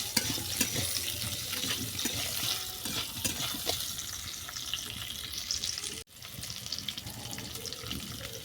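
Kohlrabi and potato pieces browning in oil left from frying eggs, for an egg and kohlrabi curry, make a close, continuous rushing sizzle with faint stirring knocks and a brief dropout near the end, no talking.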